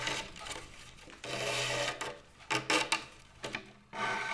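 Chair cane being woven diagonally through a cane seat, a dry rubbing and scraping of strands pulled through, close and uneven in bursts and pauses, with no talking.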